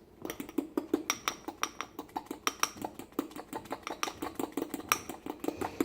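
A spoon stirring a runny, liquid sourdough starter in a container, quick repeated close clicks and scrapes in a steady rhythm.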